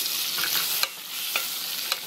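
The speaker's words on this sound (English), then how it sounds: "Now when I add my sausage, I'm not gonna keep them frying up for too long" Sausages fry in a pan for Spanish-style rice, giving a steady bright sizzle with a few louder pops and stirring scrapes, close and alone with no talk.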